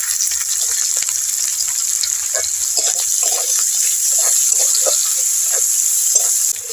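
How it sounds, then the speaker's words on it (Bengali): Chopped onion, green chilli and a little cumin fry in oil with a loud, constant hiss, and faint stirring taps are scattered through. "পেঁয়াজটা লাল লাল করে ভেজে নেব"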